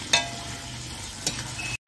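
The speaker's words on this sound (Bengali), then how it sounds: "পেঁয়াজটাকে ভালো করে ভাজবো" Onions frying in a pan, a steady close sizzle with two short sharp stirring scrapes, then an abrupt cutoff.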